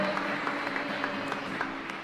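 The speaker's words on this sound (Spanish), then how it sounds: "Fuerte el aplauso." Applause for a couple's 17th wedding anniversary during a church Mass, a steady patter of clapping that holds for the whole two seconds at a moderate distance, with music faintly underneath.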